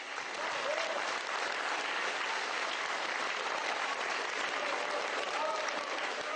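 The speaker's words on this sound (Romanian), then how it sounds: "Hai să aplaudăm, în primul rând," A crowd applauds steadily and evenly throughout, a dense, continuous wash of clapping at moderate distance with a faint voice briefly audible beneath it.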